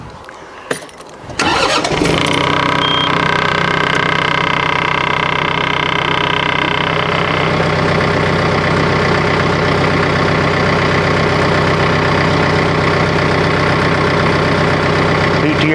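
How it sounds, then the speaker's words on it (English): A tractor with a PTO that won't engage cranks and fires up after a brief starter whir, then settles into a loud, steady close-up idle that runs on unchanged. "we're going to start the tractor and attempt to engage the PTO."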